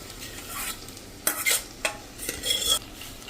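A spicy seven-grain khichdo being added to a hot pan and stirred, with several scraping strokes of a spoon against the pan over a soft sizzle, close and alone.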